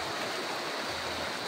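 River-like channel of hot spring water at a resort in Irosin, Sorsogon, rushing in a steady broadband wash with no pauses, close and fairly loud, with no voices over it.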